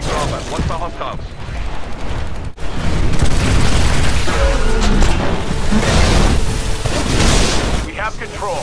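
Explosions from detonating charges to cripple a facility in a combat video game, a dense continuous roar of blasts and rumbling with a sharp break partway through, loud and close amid game noise and voices.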